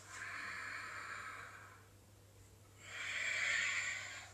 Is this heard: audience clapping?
no